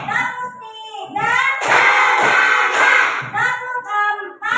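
Fifth-grade primary school pupils clap together in a counted rhythm, a burst of loud, dense claps framed by chanted children's voices before and after.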